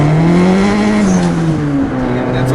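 A 1988 Honda CRX with a boosted B20b engine pulls hard in second gear, a loud, close engine drone climbing steadily in pitch with no talk over it.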